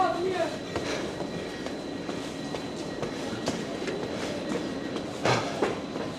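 Steady rumble and rolling noise inside a Stadler FLIRT 526 battery train operated by Erixx, heading to Kiel, heard from first class, with faint rail clicks and a brief louder clatter near the end.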